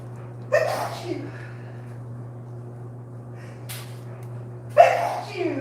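Two sharp sneezes, one early and one near the end, stand out close to the microphone over a steady low electrical hum, with a faint breathy sound between them.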